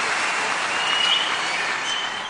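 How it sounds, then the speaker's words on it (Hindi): An arena crowd in Sydney's Allphones Arena applauds Modi, a dense, continuous roar of clapping from a large audience with no pauses. "मोदी जब भारत का जिक्र करते तो अल्फोंस एरिना तालियों की गड़गड़ाहट से गूंज उठता"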